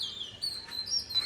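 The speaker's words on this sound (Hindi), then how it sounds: "मुझसे तेज तो मुझे लग रहा है चिड़िया की आवाज़ आ रही है" Small birds chirping outdoors in the evening after cloudy weather clears, a few thin high tweets repeating quickly at moderate distance, alone without talk.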